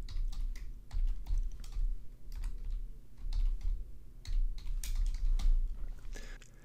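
Commands typed into an R script on a computer keyboard: close, quick clusters of light key clicks in uneven bursts with brief pauses, no talking.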